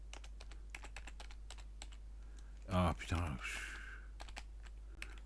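Rapid clicking of a computer keyboard being typed on in near darkness, with a brief loud exclamation from a man in the middle, then quick keystrokes resuming.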